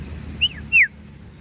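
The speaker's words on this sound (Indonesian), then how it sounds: "Ini murai batu baru ya, baru saya ambil ekor panjang." Two short, clear whistled notes from a long-tailed white-rumped shama, one rising then falling, close by in an otherwise quiet setting.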